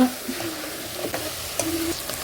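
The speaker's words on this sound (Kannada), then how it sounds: "ಅಲ್ಲಿವರೆಗೂ ಸ್ವಲ್ಪ ತಿರುಗಿಸಿ ಎಲ್ಲ ಮಿಕ್ಸ್ ಆಗೋವರೆಗೂ" A spoon scrapes and stirs chicken curry in a sizzling pan in slow, irregular strokes, with a steady frying hiss underneath.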